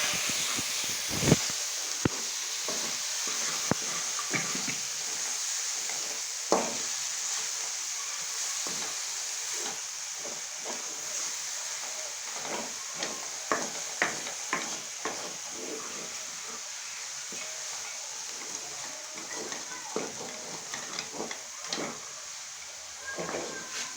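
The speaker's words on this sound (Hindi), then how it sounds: "इसी तरह हिलाएं ताकि ये मिक्स हो जाए" Onion, tomato and ginger masala sizzles in a karahi under a constant frying hiss while a spoon stirs and scrapes in irregular knocks and clacks, close and steady throughout.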